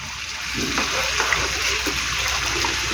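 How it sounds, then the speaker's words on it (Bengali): Water pours steadily into a pot of cooking mung dal made with fish head, a continuous splashing gush at close range with no talking. "তো আমি এটাকে এবার জল দিয়ে দেবো।"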